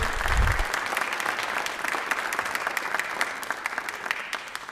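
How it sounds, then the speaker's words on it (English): A school board meeting audience gives a big round of applause for the student of the month, an even, continuous wash of many hands clapping at moderate distance, with a low thump at the start. "So great big round of applause for our Student of the Month, Emily Henry."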